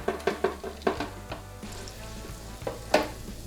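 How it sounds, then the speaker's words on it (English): Pickles deep-frying in oil at 350 degrees, a faint steady sizzle broken by several sharp clinks and clatters of utensils against the pot, close by with no talk. "We've got this oil set to 350 degrees. We're gonna fry until these are golden brown."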